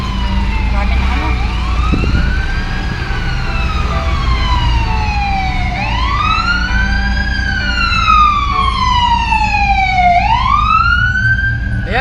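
Fire truck sirens wail in long rising and falling sweeps as engines arrive at a large blaze at a home center store in Tanauan City, loud and continuous over heavy traffic and crowd rumble.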